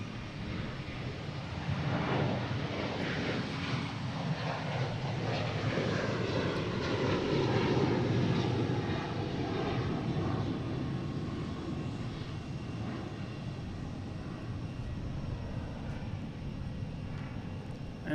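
A Southwest airliner departs Boston Logan airport, its jet engine roar building to a steady, loud rumble that holds through the whole stretch with some wind buffeting and no talk.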